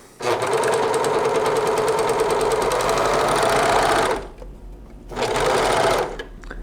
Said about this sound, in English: Just a serger along each edge.